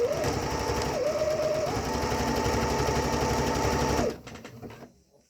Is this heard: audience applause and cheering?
no